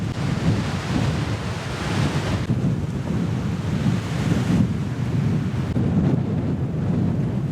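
Strong wind buffeting a hilltop in Wayanad, a steady, loud broadband roar with gusty surges and low rumble, heard alone with no talk.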